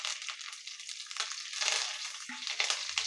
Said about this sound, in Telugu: వేసి ఒక 1/2 మినిట్ ఫ్రై చేసుకోండి.